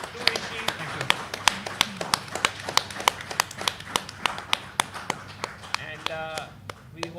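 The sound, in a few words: audience applause for Vishy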